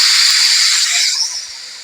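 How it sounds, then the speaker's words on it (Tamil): A pressure cooker's whistle lifted to release steam after cooking sambar, a loud close hiss that gradually fades out over about two seconds. "அந்த விசிலை வந்து நம்ம ரிலீஸ் பண்ணி விட்டுறோம்"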